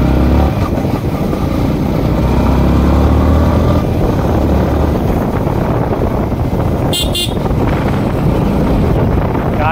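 Yamaha MT-15 sports naked motorcycle ridden through city traffic, a steady loud engine drone with heavy wind buffeting on the microphone throughout, no speech.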